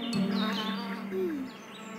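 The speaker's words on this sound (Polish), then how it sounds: "Chociaż niektóre pszczoły latały wokół ula" Cartoon bees buzz around a hive in a steady close drone, with a wavering pitch as one swoops past, quiet and heard alone without talk.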